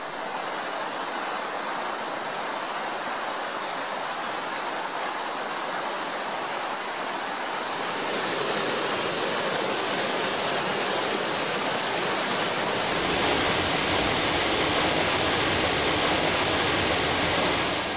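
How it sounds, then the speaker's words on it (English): Mountain streams swollen with spring meltwater rush across a hillside, a steady broadband roar of flowing water that swells louder partway through and continues unbroken with no voices. "the pounding heartbeat of streams all over the mountainside"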